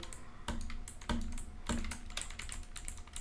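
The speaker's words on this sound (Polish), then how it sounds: "I jak klawiaturę słychać." Quiet clacking of a computer keyboard, a few sharp keystrokes followed by a quicker run of taps, close and alone.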